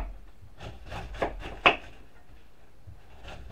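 A knife slices red cabbage into fine strips on a board, giving a few soft scraping cuts with one sharper chop in the middle, close and fairly quiet with no talking.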